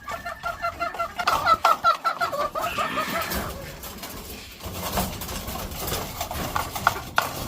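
Breeding hens cluck in a pen before being fed, a busy run of close, overlapping clucks at the start that fades into steady farmyard noise, with no talking.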